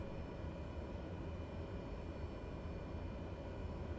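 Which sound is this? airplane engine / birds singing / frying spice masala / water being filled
airplane engine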